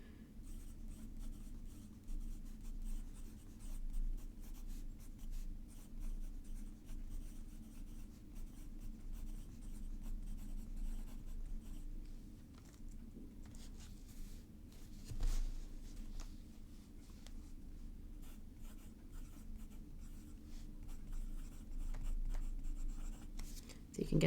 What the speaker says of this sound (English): I love the experience of writing with this pen